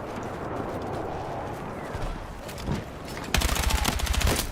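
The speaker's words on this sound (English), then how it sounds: "I shot him and it was full auto, and for some reason my bullets had no effect" Full-auto gunfire from the video game Battlefield 6 beta rattles out as a fast, even burst of loud, close shots near the end, after scattered distant bangs over a steady background din.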